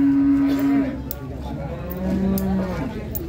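A cow lows at a busy cattle market in Ponorogo, two long drawn-out moos close by, the second rising, over a murmur of market background noise.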